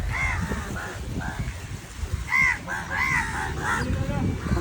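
Crows caw repeatedly near a footbridge leading to Chinese fishing nets, several harsh calls at moderate distance over a steady outdoor background hiss.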